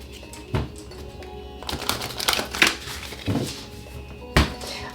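A deck of tarot cards is shuffled up close in several quick, crisp riffling bursts separated by short pauses.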